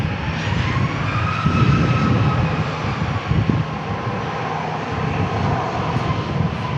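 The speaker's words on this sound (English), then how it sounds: "Southwest departure going to Sacramento" Southwest jet departing San Diego International for Sacramento, its engines giving a loud continuous roar with faint tonal whine, swelling slightly midway, close and without speech.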